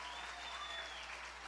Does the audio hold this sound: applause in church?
yes